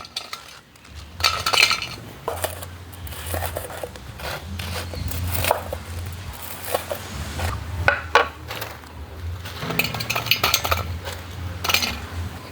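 Cut pieces of vada being dropped into a dish for vada curry, with scattered clinks and light knocks of cutlery against the dish over a low background hum, no talking.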